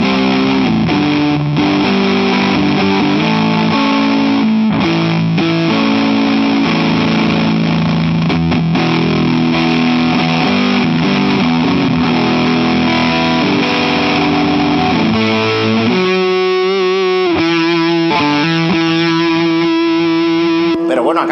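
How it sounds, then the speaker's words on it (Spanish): Godin XTSA electric guitar with heavy fuzz-style distortion, thick sustained chords ringing loud and continuous, then shifting to choppier, stuttering notes near the end. "parece que en vez de distorsión de ampli esté usando un fuzzer o algo así."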